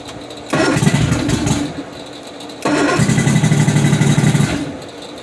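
A 1983 Grady White Seafarer 226 boat engine cranks and catches, running roughly for about a second, then cranks again and runs at a steady rumbling idle; close and loud, no talking.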